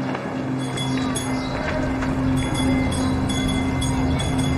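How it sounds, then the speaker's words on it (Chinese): A city tram in a 1930s street scene rumbles steadily as it approaches, with rolling rail noise, faint metallic squeals and a low continuous drone under light background activity. "电车来了，先去上班吧。"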